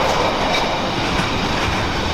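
A Freightliner freight train rolls past on the railway near a busy junction at Leamington, a steady, loud, broadband rumble of wagons passing close by without a break and with no voices.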